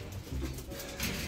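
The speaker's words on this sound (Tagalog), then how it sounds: "yung mga ibon kasi nagpakain na tayo." Pigeons coo softly near a loft landing board, with low murmuring calls blending into a noisy outdoor background.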